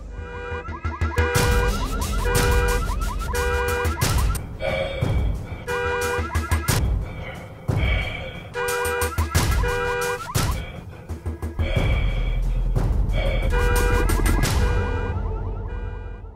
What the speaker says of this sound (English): Why was her car out there with the alarm going off?